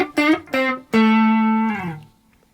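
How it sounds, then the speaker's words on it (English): Electric guitar playing a short blues lick of a few plucked notes, the last one sustained and then sliding down the neck to smooth the ending, played alone and close. "but if I throw in an ending slide"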